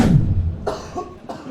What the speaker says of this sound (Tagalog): Kaliwat kanan ng pag-ubo ng mga detainee ng PAOK Detention Facility sa Pasay.